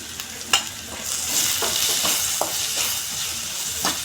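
Chicken pieces frying with chilli powder and garam masala for restaurant-style chilli chicken, a steady close sizzle broken by several sharp scrapes and taps of a stirring spoon against the pan.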